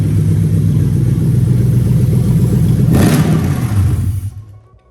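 A Toyota UZ-FE VVT-i V8, swapped into an IS200 with a manual gearbox, runs loud and steady up close, then cuts out abruptly near the end, leaving near silence.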